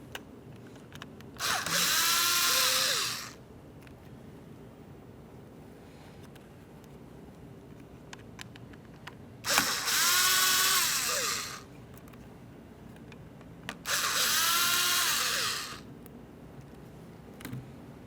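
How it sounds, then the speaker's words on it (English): Small Phillips head screws are backed out of a 2012-2015 Honda Civic driver door panel with a power driver, heard as three separate whirring bursts of about two seconds each, close by, with quiet pauses between them. "you have 4 Phillips head screws making their way around, so let's just start removing each of those"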